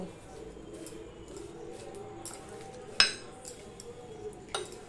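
Thin fried potato sticks (jhuri aloo bhaja) tossed with chaat masala in a bowl: soft rustling and a few light clinks, with one sharp utensil clink standing out over a faint background.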